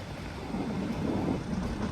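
Nilgiri Mountain Railway toy train running between Coonoor and Ooty, heard as a steady rumbling roll of wheels and carriages, moderately close and continuous with no voices.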